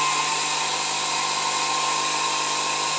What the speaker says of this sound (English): First, we switch on the blower.